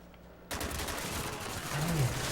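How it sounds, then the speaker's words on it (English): Gunfire and explosive mortar fire in the Call of Duty Black Ops video game, a sudden dense burst of battle noise that starts abruptly and keeps up loud and continuous, with a low rumbling swell near the end. "Oh, mortars."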